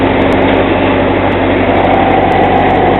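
A Massey Ferguson tractor running with a 703 hay baler attached, its engine a steady, loud, close drone with a low rumble, unbroken for a few seconds with no voices.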